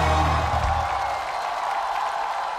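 Audience applause and cheering for a powerhouse singer's emotional live performance, a dense wash of clapping that starts loud and tapers slightly over a couple of seconds.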